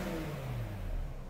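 A BMW M6 V10 revs in a brief, steady burst, its engine note rising and falling slightly, heard nearby and alone without any talk.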